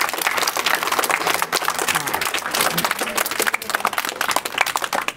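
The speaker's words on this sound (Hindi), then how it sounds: "और भावना के लिए जोरदार ताली।" Students in a coaching classroom clap loudly for a classmate, a dense, steady round of applause close by that continues for several seconds.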